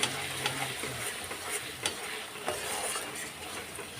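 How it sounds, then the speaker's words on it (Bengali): Spice paste sautéing in a pan for butter paneer makes a continuous close sizzle, broken by a few light clicks and stirring scrapes, with no voices. "মশলা পেস্টগুলো আগে ঢেলে দিলাম একটু কষিয়ে নেব"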